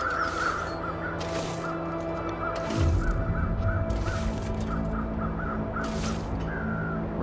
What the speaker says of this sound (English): Seems like they're crows.